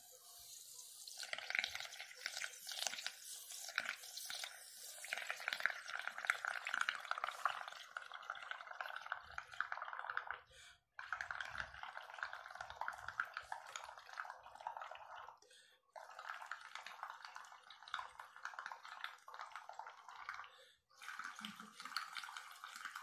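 Water sounds with drips and splashing in a basin during a dishwashing-liquid demonstration, where a single drop of dish soap is added to water; steady, close and fairly loud, with brief pauses and no talk.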